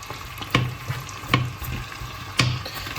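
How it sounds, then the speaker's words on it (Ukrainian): Thawed shrimp frying in hot butter in a pan, a steady sizzle with three sharp scraping knocks as they are tossed and stirred, close by with no talk. "Креветки теж вже розморозились, сюди вкидаю"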